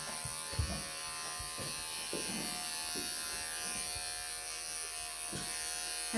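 Electric clippers buzz steadily and close up while trimming the belly fur of a Ragdoll cat during grooming, a constant hum with faint soft handling sounds and no speech.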